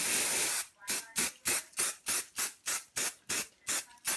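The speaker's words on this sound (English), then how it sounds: "And then you just spray it again." A long hiss of spray, then a quick series of about ten short, even spritzes from a spray bottle, close by.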